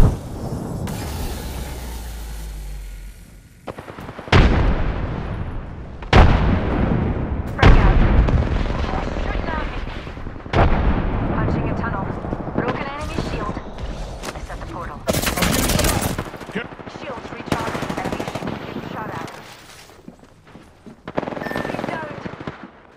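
Bursts of automatic gunfire and heavy shots with explosions in the video game Apex Legends, played on PS5 in Arena Mode, loud and repeated in sharp volleys, with people talking over the fighting.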